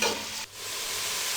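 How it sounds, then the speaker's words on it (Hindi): Finely chopped onions hitting hot oil for beef pulao, a loud hissing sizzle with a brief dip before the frying settles into a steady crackle. "अब इसमें हम बारीक कटे प्याज डाल देंगे।"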